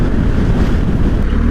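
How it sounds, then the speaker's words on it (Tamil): Strong gusting wind roars across the microphone, a loud low rumble with buffeting, sustained throughout and no voices. "சரியான ஒரு விண்ட் பிளாஸ்டாக இருக்கு."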